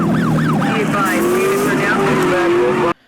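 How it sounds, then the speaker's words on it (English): Dodge Charger engine from the movie pack in the racing game Need for Speed Most Wanted 2012, a loud, sustained roar with rising and falling revs, overlapped by police sirens and tire noise, then cutting off abruptly. "something like the Charger from the movie pack. That thing sounds wild, man. Just take a listen."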